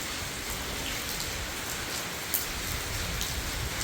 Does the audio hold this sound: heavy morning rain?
yes